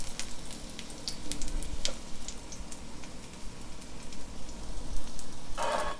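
Mixed vegetable potato tikki kebabs frying in a pan, a steady close crackling sizzle with scattered pops, louder in the final seconds.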